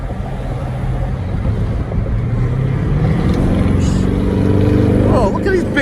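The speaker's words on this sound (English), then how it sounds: "look at these big ass trucks dominating the goddamn roads" Dodge Durango SRT and Jeep SRT trucks cruising on the road, with a steady loud engine and road rumble plus wind buffeting from inside, while a voice talks over it.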